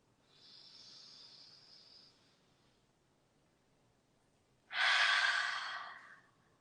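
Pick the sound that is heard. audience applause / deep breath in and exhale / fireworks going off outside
deep breath in and exhale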